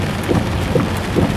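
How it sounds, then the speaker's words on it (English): Heavy rain pours steadily during a severe thunderstorm in Townsville, a dense, close wash of noise with a few faint low rumbles of thunder rising under the downpour. "At least the rainfall slowed down."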